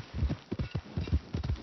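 Horse hooves clip-clop in an uneven, steady gait in Red Dead Redemption 2 as a rider sets off. The thuds land near and fairly loud, with no talk over them.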